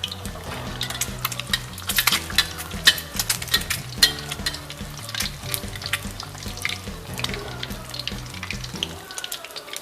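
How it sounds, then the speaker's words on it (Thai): An egg sizzles and crackles in hot oil in a pan, a dense, continuous frying hiss with sharp pops and occasional scraping as oil is spooned over the top, close up. "กรณีอยากให้ไข่ข้างบนสุกนะครับ ก็ใช้วิธีตัด เอาน้ำมันราดเข้าไปด้านบนนะครับ"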